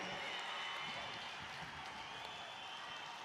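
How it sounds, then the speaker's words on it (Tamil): A crowd at a Tamil women's conference on eliminating alcohol and drugs claps and cheers steadily to pass resolutions, a dense continuous wash of applause heard at a distance. "கைகளை தட்டி ஆரவாரம் செய்து நிறைவேற்றி தருமாறு உங்களை மெத்த பணிவோடு கேட்டுக்கொள்கிறேன்"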